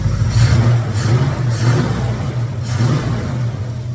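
Car engine revving repeatedly during warm-up, a close, loud, rough exhaust note rising and falling in rhythmic surges over a constant idle rumble.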